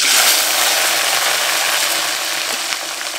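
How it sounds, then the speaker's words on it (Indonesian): Garlic cloves, bird's eye chilies and curly red chilies fry in hot oil for Indonesian sambal bajak, giving a loud, steady, hissing sizzle up close that eases slightly toward the end, with no talking. "Sekarang kita goreng."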